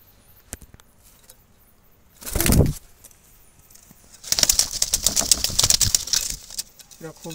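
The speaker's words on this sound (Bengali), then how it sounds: "প্রতিটা কবুতর খেয়াল করুন" Wild jalali pigeons kept in a basket flap their wings in two bursts: a short flurry, then a longer, busier stretch of fluttering and scuffling, close by with no talk over it.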